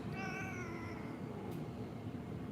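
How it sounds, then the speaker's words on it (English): A cat meows clearly in a drawn-out, wavering call near the start, then fades into a steady murmur of background noise. "And it meows."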